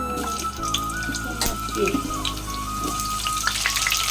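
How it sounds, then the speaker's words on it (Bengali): Potatoes frying in oil, a continuous crackling sizzle with scattered clatter and a faint tonal hum in the background. "এইবারে আগে ভেজে নিই আলু।"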